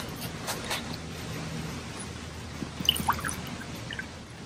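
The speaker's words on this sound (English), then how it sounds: "Let me fill my water cup." Tap water fills a cup used for painting, with light splashing and dripping that rises and falls over a few seconds, fairly close and with no talking.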